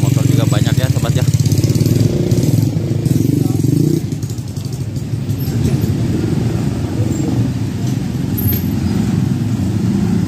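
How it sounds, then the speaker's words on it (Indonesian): Many motorcycles rumble together in a village wedding procession in Sumedang, a dense continuous engine drone of a large convoy passing close by, louder at first and then steadier, with someone talking over it. "Ini rombongan motor juga banyak ya, sobat ya."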